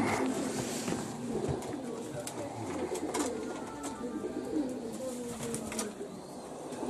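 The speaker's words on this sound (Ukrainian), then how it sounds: "У кімнатах сотні голубів" Hundreds of pigeons coo softly and repeatedly inside an apartment's rooms, with rustling and flapping noises mixed in, steady and fairly close.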